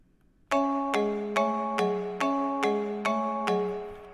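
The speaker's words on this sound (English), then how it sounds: "I have this bell here, this Glocken bell" A glockenspiel-style bell patch in FL Studio plays a slow repeating melody of eight bright, ringing struck notes, evenly spaced, each decaying into the next, with no voices over it.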